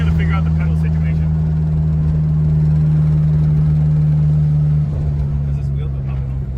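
A project car's engine idles steadily with a deep, constant drone and a loose exhaust rattling through it, loud and close. The note shifts slightly near the end, with a voice talking faintly underneath.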